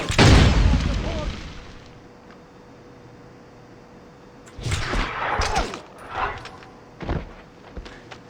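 Gunfire in the video game James Bond 007 Blood Stone, a loud booming opening blast that fades into a quiet stretch, then several sharp rapid shots and bursts in quick succession, with voices shouting around them.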